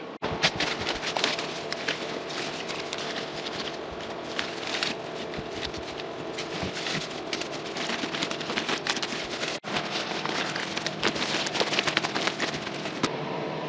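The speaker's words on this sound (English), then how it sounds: "it's raining pretty hard out there" Heavy rain falls steadily outside a tiny house under construction, a dense, continuous hiss and patter with no voices.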